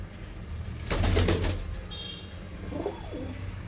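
A pigeon at a fancier's loft gives a short, low coo that swells briefly and then fades, quiet and close, with a faint higher chirp afterward and no talking.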